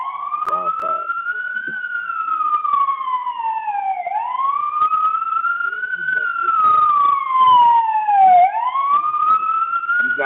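An ambulance siren wails loudly and close by, sweeping up and down in long continuous cycles as it passes, with faint traffic noise underneath.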